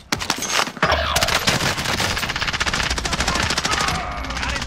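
Rapid automatic gunfire in a Call of Duty: Modern Warfare battle royale match, a dense continuous stream of loud, close shots after a brief quieter opening, with faint game voices beneath.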